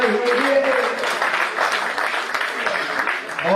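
An audience at a Hindi poetry recital (kavi sammelan) at Bharati Vidyapeeth, Paschim Vihar, breaks into steady, fairly loud clapping, with a voice briefly audible at the start and end.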